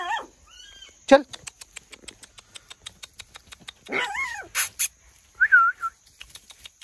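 Newborn puppies, a litter of two males and two females resting in a basket at home, whimper in thin, high squeals close by. Short bursts are scattered between steady clicking, and a voice speaks briefly.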